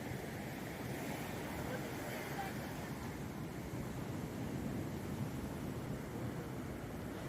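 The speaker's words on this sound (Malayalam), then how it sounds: "കളിച്ചുകൊണ്ട് നിന്നപ്പോൾ നമ്മൾ പ്രതീക്ഷിക്കാതെ ഒരു വലിയ തിരയങ്ങ് വന്നു." Sea waves break and wash onto a beach in a low, steady roar, with wind noise mixed in and no distinct individual crashes.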